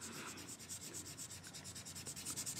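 A cotton tip rubbed back and forth on paper to blend colour, giving a soft, steady scratchy rasp in quick rhythmic strokes, close and quiet with no talk.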